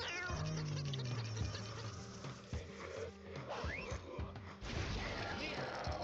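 Cartoon cats meowing in the breeding game Mewgenics, several short mews and a drawn-out call scattered over game music and effects, with a voice talking over them.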